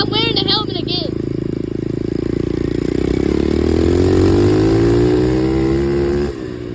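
Dirt bike engine running loud and close, a sustained buzzing drone that drops and then climbs in pitch as it bogs and recovers, with a short vocal sound at the start.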